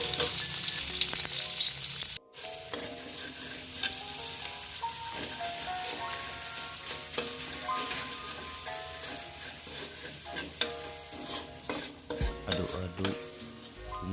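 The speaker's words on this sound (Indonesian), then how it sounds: "Aduk-aduk, tumis bumbunya sampai wangi dan kekuningan." Spice paste for a fish-free pempek filling stir-fries in a pan, a steady crackling sizzle running throughout with scraping stirs and occasional sharper clicks, fairly close and alone without talk.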